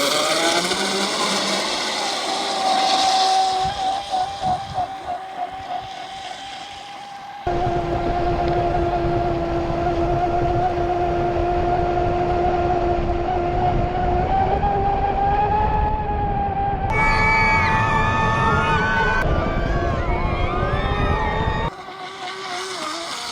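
A Traxxas DCB M41 RC speed boat runs on water, its electric motor whining loudly with rising and falling pitch as it passes and changes speed, broken by abrupt cuts between runs, with no talk.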